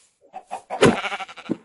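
A sheep bleats in a video game, a short wavering animal call of a little over a second that rises and falls in several pulses, fairly close and alone.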